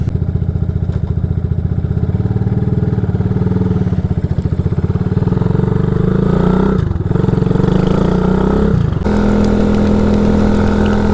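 A small carbureted engine idles steadily after a cold start, with a chugging low rumble that dips briefly twice before settling back into an even idle.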